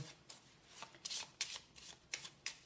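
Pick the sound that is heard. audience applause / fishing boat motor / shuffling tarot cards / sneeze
shuffling tarot cards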